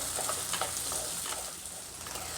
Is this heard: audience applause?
no